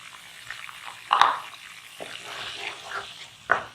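Onion, tomato and green chili mixture tipped into a hot karahi for chicken chana, giving a soft sizzle with a couple of sharper splashes and clatter as it lands, close and moderate in level with no talking.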